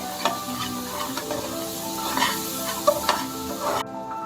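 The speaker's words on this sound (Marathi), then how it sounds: "आता हे छान मिक्स करून छान परतून घ्यायचंय" Kashmiri chilli powder, coriander powder and garam masala being stirred and sautéed in a pan, a close, steady sizzle with scraping spoon strokes and a few sharp clinks, ending abruptly.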